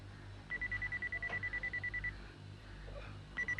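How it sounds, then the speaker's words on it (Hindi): Robot beeping, a rapid run of evenly spaced high electronic beeps lasting over a second, then a pause and another short burst of beeps, over a low background hum. "मिस्टर रोबो, ये बीप बीप क्या है?"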